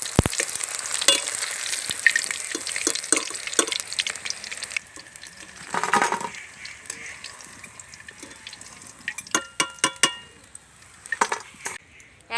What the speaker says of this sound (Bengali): একইভাবে সব পকোড়াগুলো আমি সিঙ্গেল ভেজে নেব